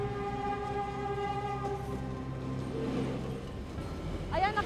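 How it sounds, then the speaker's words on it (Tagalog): Train rolling past a rail crossing in Bangkal, Makati, a continuous low rumble and droning under street noise, with a short horn or whistle rising near the end; people talk nearby. "Nakadaan na, nakalampas na yung tren hanggang dulo"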